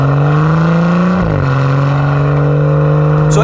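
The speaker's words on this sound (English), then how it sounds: "Stamp on the throttle and the torque really surges in through the mid-range." A B58-engined BMW M140i, converted from a 118d LCI 1-Series, accelerates hard under full throttle: a loud, continuous engine note climbs steadily, dips briefly as a gear change comes through, then rises again, close and without talk.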